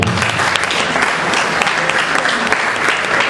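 Dense, steady applause from a concert audience for singer Antonio Porco at a Sardinian cantu in re memorial evening in Sassari, many hands clapping loudly and continuously throughout.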